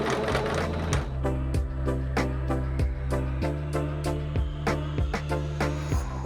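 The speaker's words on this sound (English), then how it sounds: "I then sewed up all of those ends on my machine." A sewing machine runs steadily, stitching the seams of a striped fabric cushion cover, its needle chattering in a fast even rhythm broken by short regular pauses, close and fairly loud with no talking.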